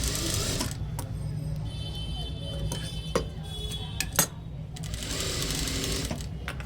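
Sewing machine stitching the rounded edge of a blouse, its motor running in a steady buzz that pauses briefly with a few clicks and knocks before starting up again.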